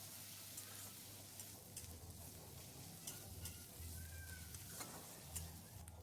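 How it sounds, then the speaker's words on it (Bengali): Ginger garlic paste being sautéed and stirred in a pan, with a steady, fairly quiet sizzle of frying running throughout. "দিয়ে ভালো করে একসাথে আমি এগুলোকে কষিয়ে নিচ্ছি"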